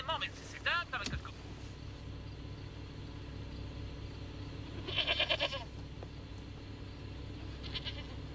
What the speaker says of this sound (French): C'était une chèvre?